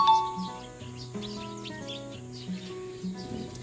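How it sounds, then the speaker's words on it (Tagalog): Young pigeon chicks in a loft chirping, thin high repeated peeps scattered across the clip over a low steady background hum, moderately close and faint. "Bali may pispis na tayo dito."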